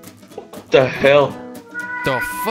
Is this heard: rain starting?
no